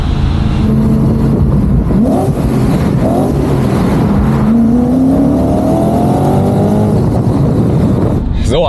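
A loud V8 engine in an Audi RS4 B7 with over 400,000 km revs hard, its pitch sweeping up and down repeatedly, with a boomy echoing quality as it drives through a tunnel.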